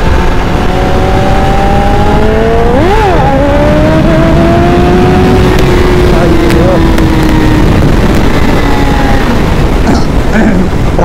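Superbike engine revving loud and close during a wheelie attempt at a superbikers meet-up, a sustained roar with rising and falling pitch and a sharp rev spike, with people talking over it.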